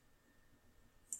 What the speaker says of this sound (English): We're going to click here